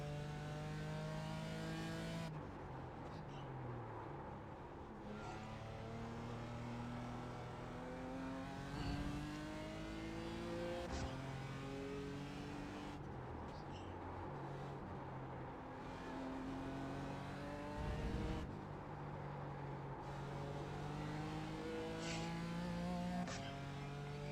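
A Formula Vee race car engine in a racing game at Oulton Park drones steadily, rising and falling in pitch through repeated upshifts and downshifts, close and continuous for the whole run with no talk.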